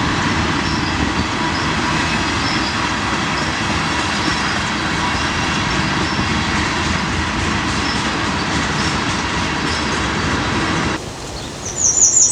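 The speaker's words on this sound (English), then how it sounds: "You can hear and see the train going by." A train passing close beside a row of maple trees gives a loud, steady rumble and rattle for about eleven seconds before it drops away, leaving quieter outdoor ambience.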